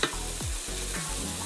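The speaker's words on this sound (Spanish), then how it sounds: "le agregamos una cucharadita de ajo molido. Dejamos dorar un poco" A teaspoon of ground garlic frying in a pan for a seafood soup, a steady close sizzle with a few scrapes of stirring through the short stretch.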